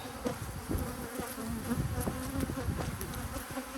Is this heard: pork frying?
no